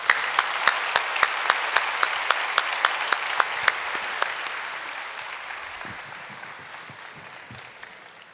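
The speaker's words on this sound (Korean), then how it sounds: "나오실 때 우리 박수로 맞이해 주시기를 바랍니다" Audience applause in a church gathering welcoming a man to the front, a dense wash of clapping with sharp individual claps at first, gradually thinning and fading over several seconds.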